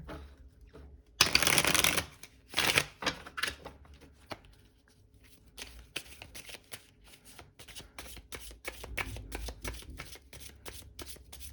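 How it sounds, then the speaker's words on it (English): A deck of tarot cards is riffled and shuffled repeatedly, with two loud riffle bursts early followed by a steady patter of softer card snaps. "we'll do one last shuffle"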